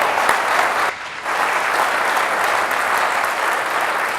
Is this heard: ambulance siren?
no